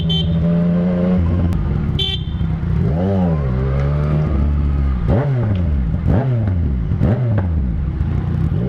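A motorcycle engine, from a swapped S1000RR or MT-09 engine, revs hard on the road, loud and close, with repeated rising and falling throttle sweeps and a brief high beep near the start.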